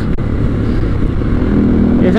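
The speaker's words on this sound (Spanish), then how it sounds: "Ese motor fino como es Honda, sorprendente." Honda XR650L dual-sport motorcycle engine running, a steady low rumble with a faint brief tick near the start, close, with a voice talking over it.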